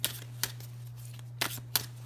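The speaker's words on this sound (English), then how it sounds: "I'm just going to shuffle." A deck of tarot cards is shuffled in short crisp bursts of riffling and card slaps, fairly faint, over a steady low hum.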